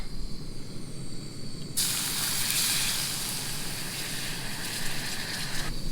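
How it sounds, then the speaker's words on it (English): Water pours steadily into a cooking pot outdoors, a broad rushing hiss that starts abruptly and runs for about four seconds before cutting off, over a low background rumble. "So we're gonna start with our water."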